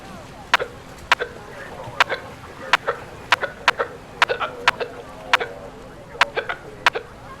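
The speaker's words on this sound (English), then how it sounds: "Don't you feel like you have a case of the hiccups?" Repeated sharp hiccups, about a dozen, spaced irregularly roughly every half second, close and fairly loud over a low background hum.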